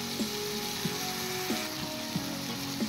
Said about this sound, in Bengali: এবার আমি দিয়ে দেব মেখে রাখা মাছগুলো